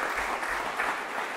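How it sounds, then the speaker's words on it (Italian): A brief burst of audience applause for a publisher at an Italian book presentation on Dolomites legends, a dense, even patter of many hands. "Vi farei un applauso."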